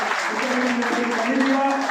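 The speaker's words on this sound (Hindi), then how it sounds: "तो मैं जोरदार तालियां के साथ स्वागत करूंगा।" An audience claps steadily at a Brahmin community blessing ceremony in Haryana, a dense, continuous wash of applause heard under a man's amplified speech.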